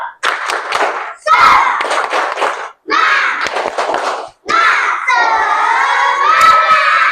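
Classroom of schoolchildren doing a rhythmic spirit clap in bursts of sharp, loud hand claps mixed with chanting voices, ending in a sustained shout together.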